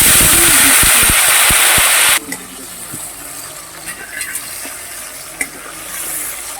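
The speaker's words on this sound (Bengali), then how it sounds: "এইবার এই তেজপাতাটা ফোড়ন দিচ্ছি এই জিরাটা ফোড়ন দিচ্ছি এই এলাচ লবঙ্গটা দিয়ে দিচ্ছি" Whole spices—bay leaf, cumin, cardamom and cloves—sizzling in hot oil: a loud, hissing fry for about two seconds that cuts off abruptly, leaving faint crackles and a few light clinks.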